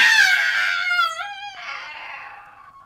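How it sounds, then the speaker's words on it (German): A witch screams horribly while burning in a German fairy-tale audio drama of Hansel and Gretel, one long wailing shriek that glides down in pitch and fades out alone. "Und sie fing so grässlich an zu schreien"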